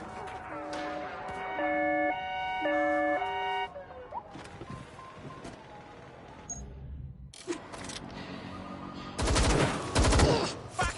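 An ambulance siren wails in alternating two-tone pulses early on in the Watch Dogs Legion video game, then bursts of gunfire and other game effects take over, growing louder toward the end.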